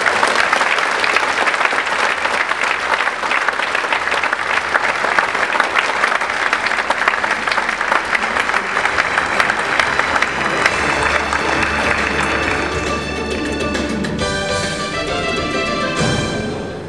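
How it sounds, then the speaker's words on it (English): Loud, sustained applause from a large awards-gala audience honoring women in the auto industry, dense and continuous, easing slightly toward the end as music enters. "Ladies and gentlemen, a round of applause for our honorees in this category."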